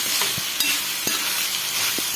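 Steady, dense sizzling of beetroot and grated coconut stir-frying in a pan over low heat, with a few soft scraping stirs cutting through the hiss, no voices.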